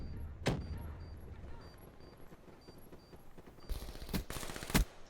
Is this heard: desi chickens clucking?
no